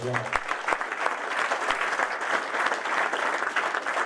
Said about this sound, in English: So round of applause for RJ as well.